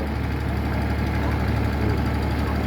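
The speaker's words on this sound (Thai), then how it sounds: "เร่งเครื่องแค่นิดเดียวนะครับ" A Kubota KX91-3S2 mini excavator's diesel engine runs with a slight rev, a steady, close, continuous low rumble and clatter throughout, with no voices.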